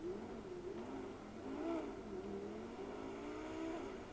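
A modified car revs in the driving game GTA V, a steady, moderately loud mid-pitched engine drone that rises and falls gently in pitch, with no talking.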